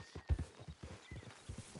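Horse hooves clip-clop at a steady walking pace in the Western video game Red Dead Redemption 2, moderately close and quiet, with uneven beats over a faint background.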